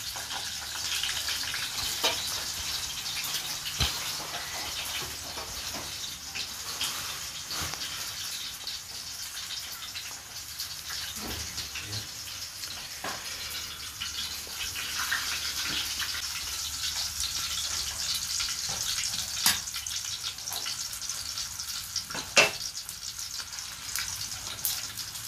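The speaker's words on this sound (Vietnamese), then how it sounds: "Chiên khô cá lóc làm và gỏi xào rau." Dried snakehead fish frying in hot oil, a continuous dense hiss and crackle with a few louder pops, close and steady throughout with no talking.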